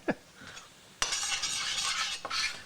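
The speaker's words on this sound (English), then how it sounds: "Then we go back to stirring." A utensil stirs anchovies and onions in oil in a pan, giving a close scraping stir over a steady sizzle, with no talk.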